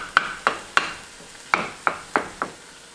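Spoon stirring and breaking up a mixture in a pan, gluten-free cooking with almond or soy milk added: seven sharp, evenly spaced scrapes and taps about every third of a second, close and clear, no voices.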